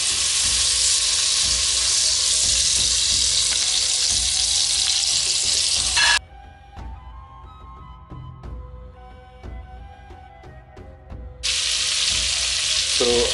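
Butter and olive oil sizzling loudly in a pan for Iranian dill rice, a steady close hiss that cuts out midway, leaving quieter crackles and faint clinks, then the loud sizzle returns.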